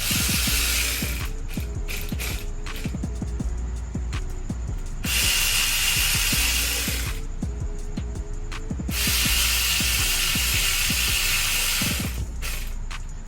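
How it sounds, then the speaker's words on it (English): A torque wrench tightens cylinder head bolts on a 5.3 LS V8 being swapped into a Chevrolet Caprice, giving rapid close ratcheting clicks in long runs with brief pauses between strokes. "this needs to be torqued down to 8 foot-pounds. If you never use the torque wrench, that's how you do it."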